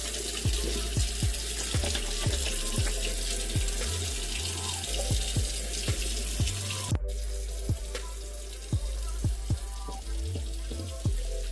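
A bathroom tap runs steadily under face washing, with repeated splashes and drips from hands scooping water at an irregular rhythm, close and fairly loud.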